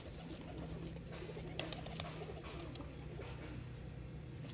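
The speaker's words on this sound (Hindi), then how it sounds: "कबूतर मैंने छत पर निकाल लिए हैं" Pigeons, including a netted-feather breed, gather on a rooftop, giving soft low cooing amid faint background noise, with a couple of brief sharper sounds and no speech.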